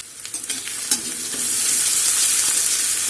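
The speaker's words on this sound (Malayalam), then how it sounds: "ഇനി നമുക്ക് നന്നായിട്ടൊന്ന് വഴറ്റിയെടുക്കാം" Ginger, garlic and green chili sautéing in a hot pan, a bright sizzle that swells and settles as a utensil stirs through with a few scraping knocks, close and steady with no voices.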